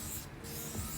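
A nearly empty spray paint can hisses and sputters in short bursts, broken by a brief pause, close to the microphone with no talking.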